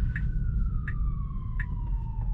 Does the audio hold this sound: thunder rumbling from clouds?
no